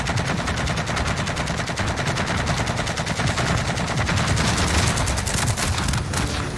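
Minigun firing in Call of Duty Warzone, a continuous rapid rattle of shots that runs loud and unbroken for several seconds, ending with a brief tail near the end.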